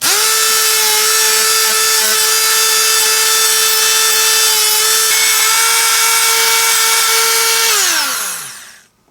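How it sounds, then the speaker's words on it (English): A high-pitched Dremel rotary tool with a sanding attachment whines steadily at close range cleaning DeLorean electrical terminals, then spins down as it is switched off. "You can also take a sanding tool, like a Dremel with a little sanding attachment"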